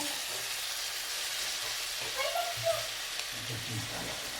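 Tomato, cauliflower, capsicum and potato sauté in a pan for a village-style veg biryani, giving a low frying sizzle with a few stirring scrapes. The sound is close and fairly quiet, with faint voices in the background.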